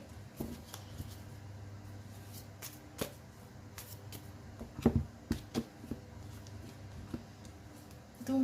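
A deck of oracle cards is shuffled and cut, giving soft, quiet riffling and papery flicks with a few sharper slaps near the middle and at the end, no talking over it.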